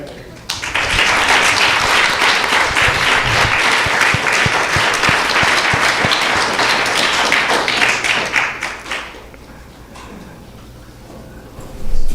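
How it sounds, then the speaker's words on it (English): Audience applause after a spiritual class on Vaishnava dharma, loud close clapping from a room of listeners that runs for about eight seconds before fading into quiet room noise, with a few thumps at the end. "big round of applause for Prbhu."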